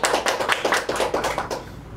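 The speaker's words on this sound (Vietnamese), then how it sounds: "Xin một tràng pháo tay dành cho chị ạ." Applause from an audience at a prize-draw event, honoring a winner as a steady, dense patter of clapping that fades slightly toward the end, with no voices over it.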